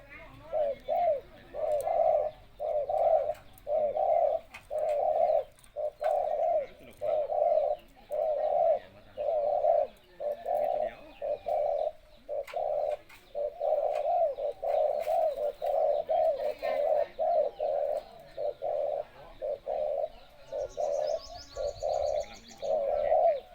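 Pigeons or doves give soft, repeated coos in a steady rhythm of about two calls per second, close by, with faint voices and occasional chirps in the background.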